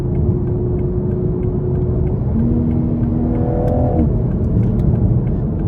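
A 2021 Toyota Supra 3.0 Premium accelerates, heard from inside the cabin as a steady low engine and exhaust drone with a whirring turbo tone that climbs in pitch through a gear change.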